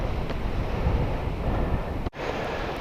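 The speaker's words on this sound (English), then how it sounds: "we're getting pummeled by wind" Strong wind buffets the microphone outdoors up on a tower, a dense, rumbling roar that persists throughout with a brief dropout near the end.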